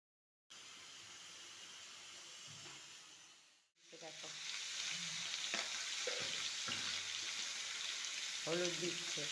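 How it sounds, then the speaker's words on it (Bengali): Oil poured into a hot kadai for aloo dum sets off a steady hiss that swells after a short dip and stays loud and sustained, with faint voices in the background. "কড়াই এবার তেতে গেছে, এবার কড়াইয়ের মধ্যে কিছুটা পরিমাণ তেল দিয়ে দিলাম আলুর দম করার জন্য"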